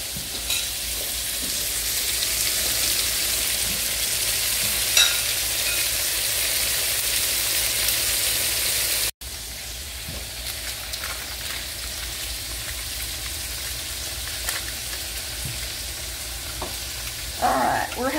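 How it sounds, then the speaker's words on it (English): Steady, crackling sizzle of okra frying in a hot pan, continuous and fairly loud, with a few brief clinks near the end. "I'm just going to show you frying up one batch"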